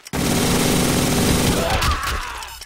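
A minigun blasting in a video game, one dense sustained burst of rapid-fire shots close and loud for about two seconds, then a spinning-down whir as the barrel winds down.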